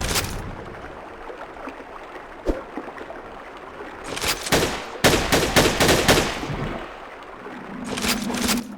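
Uzi fire in the video game Ashes: Dead Man Walking comes as one lone shot, then two rapid bursts in quick succession and a final short burst, heard over a low, quiet background.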